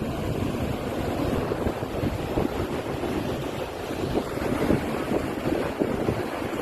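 Ocean waves wash continuously onto the shore at Santa, Ilocos Sur, with steady wind buffeting the microphone throughout.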